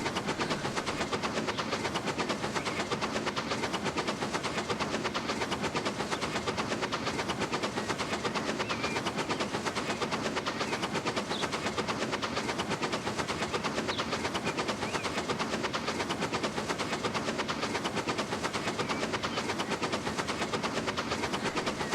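Train in the Transport Fever 2 game on a UK railway, a constant rumble of wheels on rails with fast, even clatter, heard steady and alone throughout.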